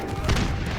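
An explosive cactus detonates in the battle game Totally Accurate Battle Simulator, a single deep, booming blast that swells and rumbles out within a second.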